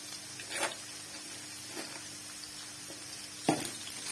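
Onions browning in hot ghee with cinnamon pieces, a soft steady sizzle with a few brief louder crackles and stirring bursts, close and fairly quiet, with no talking.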